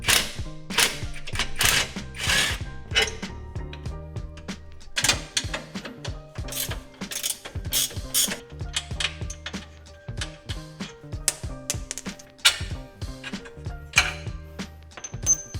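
Hand ratchet undoing 17mm nuts on the rear differential carrier of a Subaru WRX/STI, heard as bursts of close, rapid clicking broken by short pauses, with no talk.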